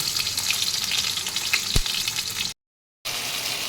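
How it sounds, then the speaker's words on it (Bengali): Pieces of pointed gourd (potol) fry in a pan of hot oil with a steady, close sizzle that runs throughout, broken by one brief full silence. "এবার পটলগুলোকে সব একে একে ছেড়ে দেবো, দিয়ে ভেজে তুলে নেব।"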